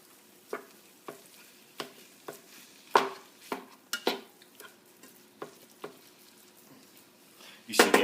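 Ground beef browning in a pan, heard as a string of sharp utensil scrapes and taps against the pan every half second or so over a soft sizzle, ending in a louder clatter.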